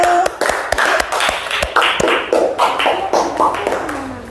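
Classroom clapping for a student group called up to present in an Indonesian language lesson: a burst of quick, close hand claps from several students, steady and lively, with faint voices mixed in.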